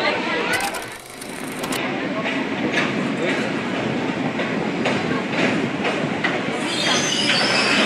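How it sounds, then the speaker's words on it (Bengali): A passenger train pulls out of Rampurhat station, a loud rumbling roll of wheels with rhythmic clacking and some squeal, close and continuous, with voices audible around it. "এই ট্রেন বেরিয়ে যাচ্ছে"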